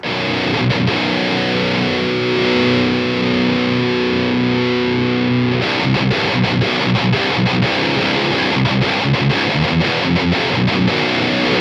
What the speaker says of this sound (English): now that leaves us with the limiter, which sounds like this.